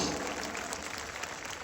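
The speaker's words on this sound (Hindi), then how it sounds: "मुझे एक बार पीछे तक ताली बजा करके हुक्म दें" Audience applause at an Urdu poetry recital (mushaira), a steady wash of clapping from a large crowd, fairly even and moderately loud, heard briefly on its own.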